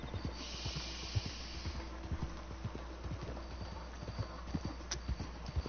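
Steady clip-clop of horse hooves in Red Dead Online plods along in an even rhythm, with a faint snort and a low background hum.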